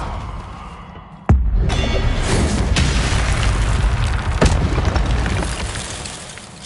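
Incendio fire spell cast in Hogwarts Legacy, heard as a sharp close blast that erupts into a sustained roaring burst of flame, with another crackling impact partway through before the roar tapers off.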